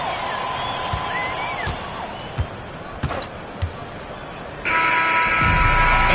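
A final buzzer in an NBA 2K26 video game basketball game between the Pistons and Detroit's opponent: short electronic beeps and bounces over arena noise, then a sustained loud buzzer blare with crowd roar, under a commentator's voice.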